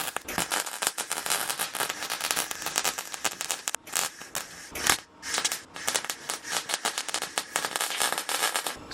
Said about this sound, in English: I'm going to try to see if I can tack a little spot